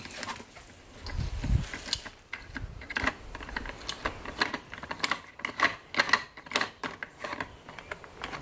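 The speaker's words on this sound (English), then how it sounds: "to get this off, you unscrew the black part" A black plastic part is unscrewed on an Oregon CS1500 electric chainsaw, giving a run of small, close ticks and ratcheting clicks with a brief soft thump near the start.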